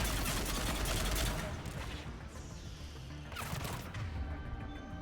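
Pistol gunfire against geth aboard a geth ship in Mass Effect 3, a dense burst of shots and crashing impacts at the start, then scattered hits and combat noise.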